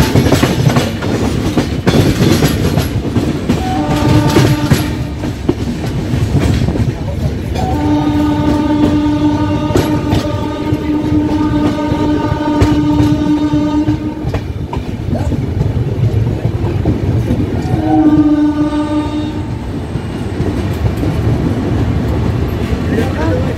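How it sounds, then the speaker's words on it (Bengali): The Rajdhani Express runs through Dum Dum Junction with a constant loud wheel rumble and clatter, sounding several long horn blasts, one early, one sustained for several seconds, and another near the end, with voices in the background. "ট্রেন এখন আমাদের দমদম জাংশন ক্রস করে যাচ্ছে।"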